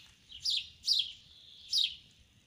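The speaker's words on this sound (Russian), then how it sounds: "птички поют" Small birds singing outdoors on a spring day at a farmstead where dogwood is in bloom, with three clear bursts of high chirping song about a second apart, over a quiet background.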